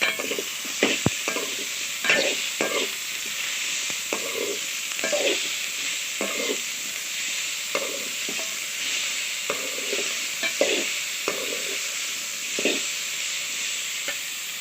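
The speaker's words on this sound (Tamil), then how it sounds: "இப்போ தக்காளியை சேர்த்துக்கலாம் அதையும் நல்லா வதக்கிக்கணும்" Chopped tomatoes sauté in a pan for carrot chutney, a steady soft sizzle with repeated scraping stirs of a spoon, close and continuous with no talk.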